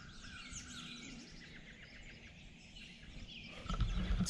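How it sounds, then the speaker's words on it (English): Several birds chirp and call in quick, overlapping trills against faint outdoor background in Florida, moderately distant, with a soft rustle near the end. "It's like a lot of bird noise here."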